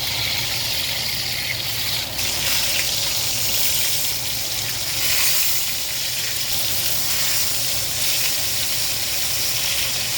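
Meat browns in a pot with a steady, moderately loud sizzle and hiss that runs continuously, with no talking over it.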